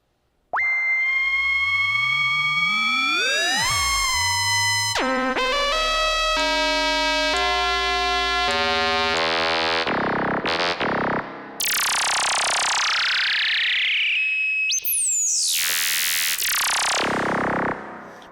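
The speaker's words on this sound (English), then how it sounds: "We'll add some modulation from this Oscillator 3." A 1973 Minimoog Model D synthesizer tone modulated by Oscillator 3, sweeping and warbling through shifting pitches, buzzy steps and bursts of bright noisy sound, loud and close with no talking.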